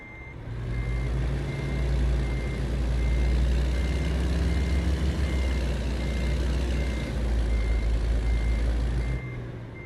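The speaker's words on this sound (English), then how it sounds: "I gotta back up a little bit." Steady electronic reversing beeps from a truck in American Truck Simulator, repeating evenly over a loud, constant diesel engine rumble, with no talk.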